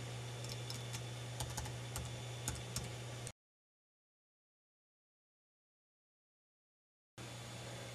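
Computer keyboard keys tapped in a quick uneven run while entering a password during a Mac OS X Snow Leopard installation over Tiger, with a steady low hum beneath, then a stretch of silence before the hum returns.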